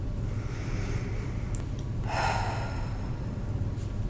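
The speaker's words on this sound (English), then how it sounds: "Take 5 deep breaths, not changing your breaths in any way, just being aware of your breaths" Slow, close breaths drawn in and let out against a steady low background hum, one fuller inhale standing out midway.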